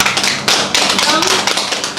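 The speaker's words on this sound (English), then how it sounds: "Clap again." A group of people clapping at a cake-baking training session, several sharp bursts of applause close by, with voices in the background.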